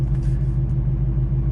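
Chevrolet Corvette C5 engine running in about 40-degree cold weather, a deep steady low rumble with a pulsing idle throb, close and continuous, no talk over it.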